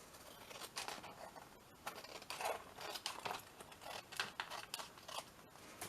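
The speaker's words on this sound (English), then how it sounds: "And we just cut the little bit off here." Scissors snip through paper while a small craft booklet is being made, a run of short, crisp cuts close up with brief pauses between them and no talking.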